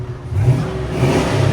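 A Hummer H2 with a 6.2L V8 and a Flowmaster 40 Series exhaust revs up close and loud, a deep, throaty rumble that swells twice within a second and a half.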